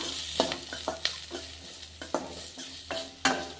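Ingredients fry in a pan for an evening snack while a spatula stirs through them, with repeated scraping strokes over a soft sizzle and no voices.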